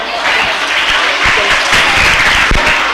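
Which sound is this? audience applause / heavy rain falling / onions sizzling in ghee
audience applause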